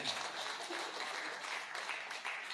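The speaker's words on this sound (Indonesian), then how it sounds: "Yang mengerti tepuk tangan bagi Allah." A burst of clapping from a church congregation, dense and continuous applause filling the room at moderate volume.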